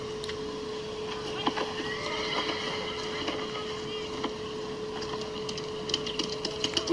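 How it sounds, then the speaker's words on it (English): Horse neighing in the video game Mafia: The Old Country, a whinny over game ambience with some clopping and faint background noise. "There's a horse."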